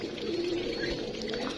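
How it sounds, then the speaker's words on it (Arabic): Pigeons coo softly in a poultry pen kept alongside ducks. Low, rolling calls overlap steadily at a moderate distance, with no speech over them. "تعالوا ناخد كده فكرة عن الحمام ونشوف بقى اخبار الحمام معانا"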